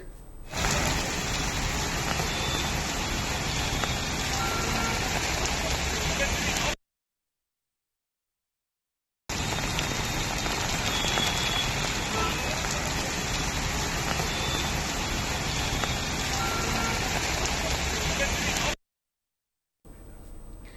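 Heavy rain pouring in Hyderabad, a steady broadband hiss and roar of downpour in two long stretches separated by brief silent gaps.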